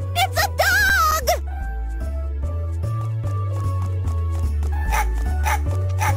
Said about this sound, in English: Ah, it's a dog!